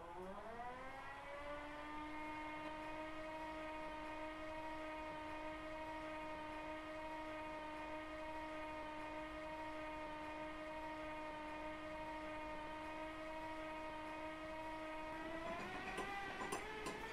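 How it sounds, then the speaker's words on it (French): The diesel engine of a BB 67400 locomotive starts up in Train Simulator Classic: a rising whine settles into a steady, loud tonal drone, which shifts and roughens near the end. "on va pouvoir démarrer le moteur en appuyant sur le bouton Start Essai et en restant bien appuyé dessus"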